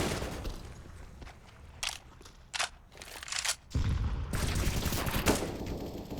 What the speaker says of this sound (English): shooting through the boards happening.